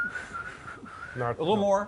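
Someone whistles a long, steady single tone for about a second, then gives a short warbling whistle with a voice speaking over it.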